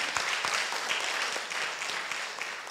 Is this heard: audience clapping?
yes